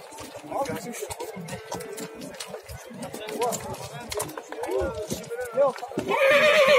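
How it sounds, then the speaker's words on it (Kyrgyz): Horses at a livestock market neigh in several clear whinnies over a busy crowd, with hoof clops and people talking nearby throughout. "Дагы бир кашкасы чоң ат"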